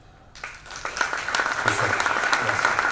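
Applause builds from near silence at a women's football club evening at the Fairmont Monaco, swelling into dense clapping from a large banquet crowd that grows louder and holds steady to the end.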